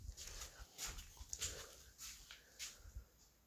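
A dog whimpers softly in short, high whines, faint and close, with a few small thumps and rustles between them.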